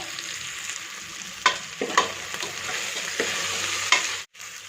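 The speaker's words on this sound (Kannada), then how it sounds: "ಈ ಕಾಳುಗಳನ್ನ ಎಣ್ಣೆಯಲ್ಲಿ ಒಂದು ಸ್ವಲ್ಪ ಫ್ರೈ ಮಾಡಿಕೊಂಡ್ರೆ ಟೇಸ್ಟ್ ಚೆನ್ನಾಗಿರುತ್ತೆ" Sprouted horse gram being fried and stirred in oil in a pan, a steady close sizzle with several sharp scraping stir strokes and brief crackles throughout, ending in a short pause.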